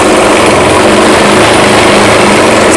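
A sewing machine stitching cloth runs loud and steady with a continuous motor whir and fast needle chatter throughout, no pauses.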